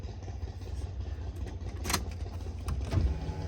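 A motorbike passes by outdoors, its engine rising to a brief louder swell near the middle and end over a steady low background rumble.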